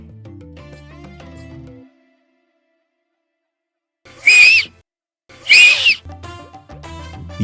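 A voice imitates a Hindi-style pressure cooker whistle with two sharp, hissing bursts, separated by a short pause, loud and close, with faint music before and after.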